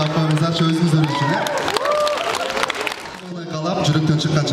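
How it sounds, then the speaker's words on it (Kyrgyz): A concert audience at the 2023 'Altyn Balaty' show applauds and cheers steadily throughout, the crowd noise loud and continuous, mixed with voices and tonal music or singing. "Келиңиздер, кол чаап коюңуздарчы өзүңүздөр үчүн"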